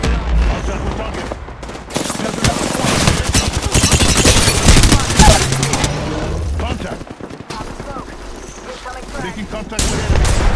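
Heavy automatic gunfire in Apex Legends rattles in loud, dense bursts that nearly fill the stretch, dropping off briefly partway through before firing resumes, with voices calling out over the shooting.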